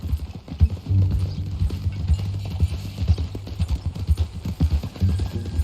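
Hooves of a newly bought horse clip-clop in Red Dead Redemption 2, a steady rhythmic run of close, muffled thuds with no talk over them.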